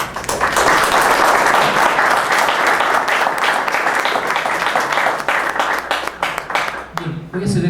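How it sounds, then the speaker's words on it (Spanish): Strong, steady applause from an audience welcoming guests at a book presentation, a dense, close crowd of clapping that holds for several seconds before tapering off. "quisiera que recibiéramos a nuestros consocios con un fuerte aplauso, por favor."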